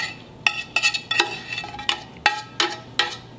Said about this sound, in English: Okay, mix those up.